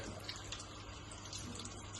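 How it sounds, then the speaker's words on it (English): Tap water runs steadily over embroidery stabiliser held beneath the stream, a continuous soft hiss and splash, close and fairly quiet, with no talk over it. "So all I'm going to do now is just hold this under the tap"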